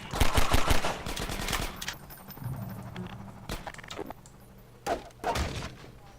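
Half-Life 2 gunfire: a loud rapid burst of automatic shots opens the scene, followed by scattered thuds and a couple of further short bursts later on, with no talk.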